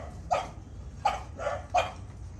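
Four sharp dog barks, fairly close, spaced irregularly over a couple of seconds against a low background hum.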